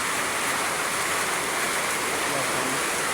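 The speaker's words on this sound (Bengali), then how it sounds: "কত বৃষ্টি চলছে," Heavy rain falling outside a house window, a steady dense hiss of water that holds constant and fills the whole stretch without pause.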